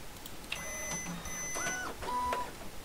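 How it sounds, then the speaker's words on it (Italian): A toy printer whirs and chirps through a short printing run, with faint electronic tones and clicking mechanism noises close by and no talk. "Ah, ecco la stampante."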